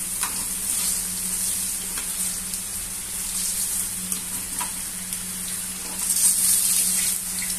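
Eggplant sizzles in a pan of chicken binagoongan with a steady, loud frying hiss, while occasional stirring knocks break through.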